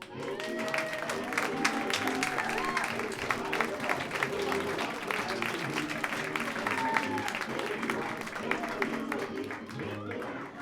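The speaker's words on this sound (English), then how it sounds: "Ladies and gentlemen, big round of applause for Mickey Mouse" A roast-show audience applauding Mickey Mouse, with sustained, dense clapping and crowd noise throughout while voices talk over it.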